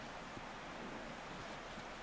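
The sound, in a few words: creek water flowing by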